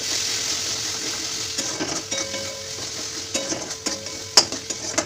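Chicken is stirred in a pan with Kashmiri chilli powder and meat masala, a steady frying sizzle broken by scraping spoon strokes and sharp metallic clinks, with no speech.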